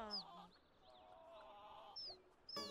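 Domestic hens cluck and give a few higher squawking calls nearby, a scattered run of fowl sounds over a quiet background with no talking.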